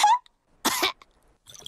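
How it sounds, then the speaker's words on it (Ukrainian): A cartoon piglet from Peppa Pig coughs in a few short, separate bursts with quiet gaps between them. "кашель у Педро такий заразний"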